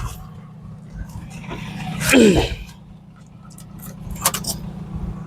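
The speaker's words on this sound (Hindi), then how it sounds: "अब लगाते हैं गाड़ी के अंदर चाबी" Keys jingle as one is pushed into the ignition of a Mahindra Bolero BS4 pickup with a starting problem, a brief close metallic rattle with a faint voice around it and light clicks afterward.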